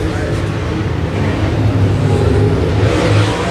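Dirt track race cars roar around the track during a feature main event, a steady loud engine drone with rising revs, and a commentator's voice runs over the noise.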